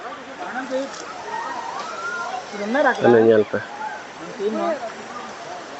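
Katiki waterfall near Vizag pours in a steady broadband rush throughout, with voices talking over it, one louder burst of speech near the middle.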